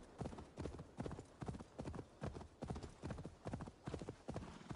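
Horse hooves in the video game Assassin's Creed Valhalla gallop in a quick, steady rhythm of repeated clip-clop beats, fairly close and even throughout, with no speech.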